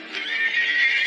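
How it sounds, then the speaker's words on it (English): A horse whinnies in a single drawn-out neigh that rises and wavers, loud and close, heard alone. "Allegra, what a thoroughly ungrateful horse."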